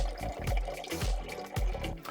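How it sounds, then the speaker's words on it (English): Fresh water from an RV faucet fitted with an inline filter and UV LED purifier pours and splashes in an uneven trickle, close and fairly quiet. "Then it was pumping fresh, clean water."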